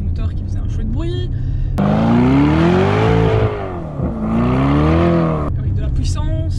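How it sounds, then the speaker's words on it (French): Lamborghini Urus SUV engine revs loudly, rising and falling in pitch in two long sweeping pulls, with brief talk before and after. "une voiture avec un moteur qui faisait un chouette bruit"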